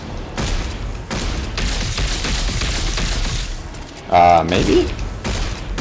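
Weapon fire in the sci-fi shooter game Dead Space 3 comes as repeated sharp bursts and booming shots in a steady rhythm, with a short mechanical whine near the end and a player's brief voice.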